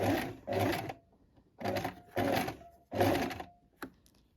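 A sewing machine stitches braided trim onto the edge of a ruffle on a summer dress, running in several short bursts of steady whirring separated by brief pauses, close and clear.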